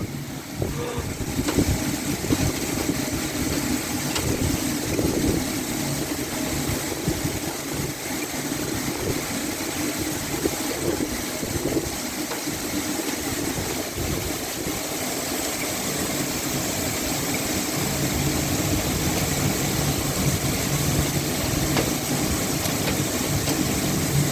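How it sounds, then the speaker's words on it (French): Torrential rain pours down during a violent supercell thunderstorm in Valence, Drôme, a dense, steady roar that fills the scene at high volume without letup for the whole stretch. "Il y a des trompes d'eau qui tombent."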